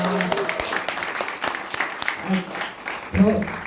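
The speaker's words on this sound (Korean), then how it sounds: "우리 방학기 실장님께 다시 한번 큰 박수 부탁드리겠습니다" Applause from a lecture audience, a scattered patter of clapping mixed with voices and room murmur, moderately loud and steady throughout.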